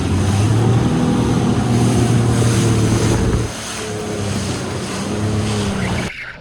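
A jetski engine drones steadily far offshore while trolling, with wind buffeting the microphone and water rushing past; the motor tone drops partway through and fades out at the end.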